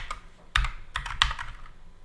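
Code is typed on a computer keyboard into a JavaScript file, a quiet run of irregular key clicks with a few sharper, heavier strokes among them.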